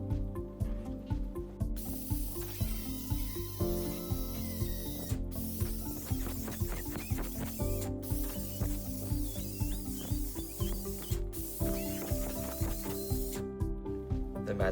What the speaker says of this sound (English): Let's see if one of our vacuum generator, the Magic Ripper, with our P-type lip suction cup,